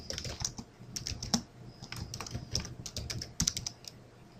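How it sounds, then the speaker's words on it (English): Fingers type on a computer keyboard while entering text into an Excel 2010 spreadsheet: a quick, irregular run of close, crisp key clicks with brief pauses, and no voice. "in the title here, I'm going to type date of payroll."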